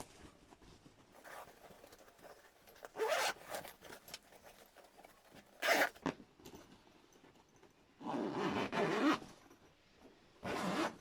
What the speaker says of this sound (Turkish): İçi bu şekilde doldurup fermuardan kapatacağız.